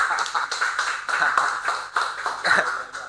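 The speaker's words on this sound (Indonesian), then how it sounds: "Kita perlu tepuk tangan dulu" Applause from a small group, a brisk stream of overlapping hand claps with a few louder bursts, fairly close and continuous, with no talking over it.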